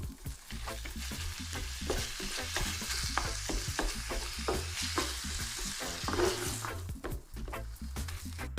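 Food sizzles loudly in a pan while being stirred, a dense continuous frying hiss with rhythmic scraping strokes throughout, close and unaccompanied by speech.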